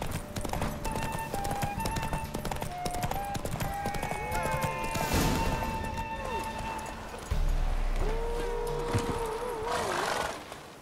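Horse hooves galloping in a race in The Witcher 3, a steady rapid clatter under game music, joined by a whinny and speaking voices.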